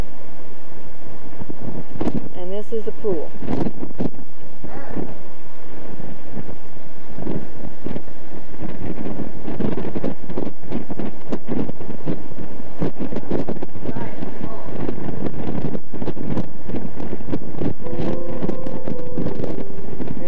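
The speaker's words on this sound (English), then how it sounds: "It's real windy." Loud wind buffeting the microphone in continuous roaring gusts, with a person speaking briefly underneath.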